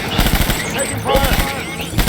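Rapid bursts of video game gunfire in Death Stranding, sharp repeated cracks in quick clusters, loud and close, with voices mixed in among the shots.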